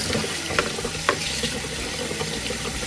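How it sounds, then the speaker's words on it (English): Cold tap water runs steadily over a cooked chicken in a sink, a continuous close hiss and splash with a few brief louder spatters and no talking. "We'll just run some cold water over it."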